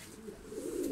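Soft, low pigeon cooing, a steady murmuring coo that grows slightly louder toward the end, with no talking.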